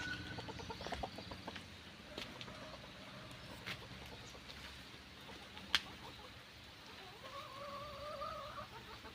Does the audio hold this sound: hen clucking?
yes